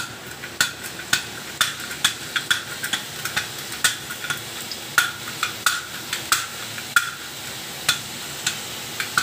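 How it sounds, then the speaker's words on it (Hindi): Sev frying in hot oil with a steady background sizzle, punctuated by regular sharp clinks of a utensil stirring in the pan, near and moderately loud with no talking. "तेल हमारा गर्म हो चुका है फ्रेंड्स, और आइए डालते हैं इसको सेव इसके अंदर"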